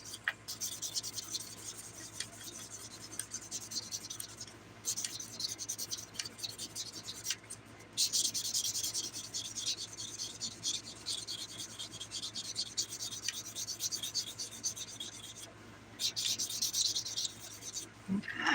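Fingernails are filed and buffed with a fine-grit nail file, a quiet rapid scratchy rubbing in steady back-and-forth strokes, close up, with a few short pauses and one brief spoken word.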